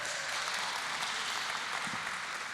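Steady audience applause at a startup contest final for a pitch team taking the stage, a dense even clatter of many hands from a seated crowd, fairly distant and continuous with no talk.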